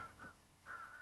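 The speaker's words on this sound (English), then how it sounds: "Let's listen to the birds and the sounds." Crows caw outdoors on a shady day, faint and distant, giving a few harsh calls in two short bursts over quiet background ambience.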